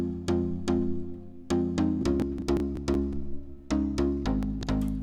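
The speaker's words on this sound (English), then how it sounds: "because without the effects it sounds like this." Dry synth plugin notes with no reverb or effects, plucky tones with sharp attacks and quick decays in a syncopated rhythmic pattern, close and clear with no voices.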